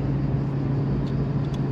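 A BMW M3 E92 with a DKG gearbox drives through a roundabout, its engine a steady close, loud rumble from inside the car with no voices over it.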